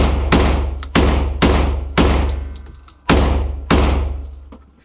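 Six loud, sharp blasts from a Beretta 1301 Tactical shotgun fitted with an X300 Turbo light, spaced about half a second to a second apart, each with a long ringing decay, close and alone with no talk.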